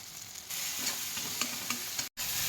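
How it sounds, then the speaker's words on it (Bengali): Ground chilli, cumin and coriander with salt and sugar frying in oil for a labra vegetable dish, a close, steady sizzle with stirring scrapes and a brief dropout near the end. "মশলাটা তো ভাজা ভাজা হয়ে গেছে, তেল ছেড়ে গেছে"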